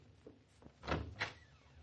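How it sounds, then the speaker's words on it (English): A door opens in an old radio drama, a low creak and scrape followed by two firm knocks or thuds of the latch and frame, heard fairly close and alone. "All right. I open the door."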